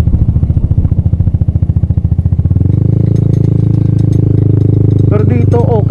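A Rusi Adventure X 150 motorcycle with an open exhaust pipe runs loud and close, first in a rapid pulsing idle, then revving up into a smoother, higher roar with a few quick throttle blips at the end.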